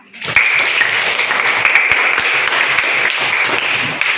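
A classroom full of students bursts into applause, sustained clapping that stays loud and even for several seconds before easing slightly.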